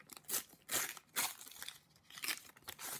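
Bursts of plastic crinkling up close as a Panini FIFA 365 sticker packet is opened, several bouts of rustling and crumpling with short pauses between them.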